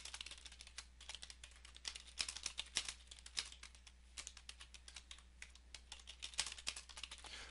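A query being typed on a computer keyboard, a quick run of faint, close key clicks over a low hum, with no talking.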